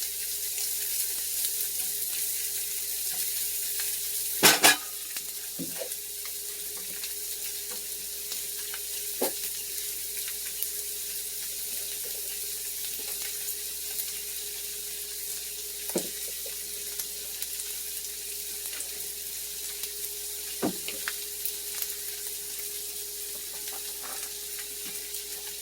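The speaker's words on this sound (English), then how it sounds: "add your shallots. And you're going to want to go ahead and saute that for a little bit" Shallots sautéing in a pan for a beef and mushroom risotto: a faint, steady sizzle over a low hum, broken by a few sparse taps of a utensil.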